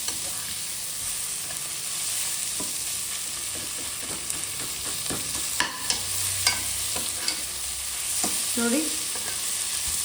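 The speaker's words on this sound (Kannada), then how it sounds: "ಈಗ ನೋಡಿ ಈರುಳ್ಳಿ ಟೊಮೊಟೊ ಎಲ್ಲ ಚೆನ್ನಾಗಿ ಫ್ರೈ ಆಗ್ತಾ ಇದೆ." Onions and tomatoes fry in a pan for egg biryani, giving a steady, moderate sizzle with occasional scraping clicks from stirring; a voice speaks briefly.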